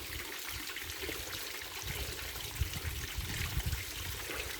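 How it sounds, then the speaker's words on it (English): Water runs steadily from a garden hose during a cooling system flush on a Ford NC Fairlane, a faint continuous trickle and splash with no voices. "I'm going to go turn the water off."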